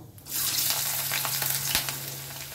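Potatoes and eggplant hit hot mustard oil seasoned with nigella seeds in a kadai, setting off a steady, bright sizzle up close that holds evenly after a quiet start.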